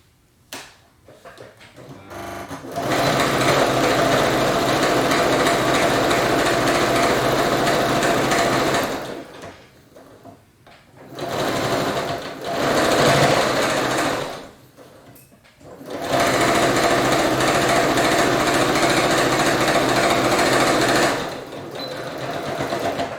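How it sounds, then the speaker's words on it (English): A sewing machine sews quilt blocks together in a column for an hourglass quilt. It runs in long, loud, steady bursts separated by brief pauses: one long run, two short ones, then another long stretch. "go ahead and line up the top and sew across and do this all the way through all your blocks in your column."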